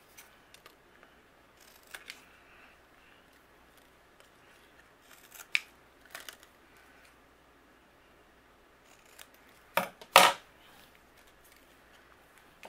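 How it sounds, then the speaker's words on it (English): Scissors trim overhanging paper from a handmade card, giving soft scattered snips and paper rustles, with a louder, sharper pair of cuts near the end, close and quiet. "anything that's overhanging with the exception of this paint, I'm going to trim away just using my scissors"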